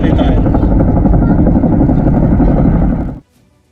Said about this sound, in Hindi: ये हेलीकॉप्टर आपको पता है कि चिनूक हेलीकॉप्टर है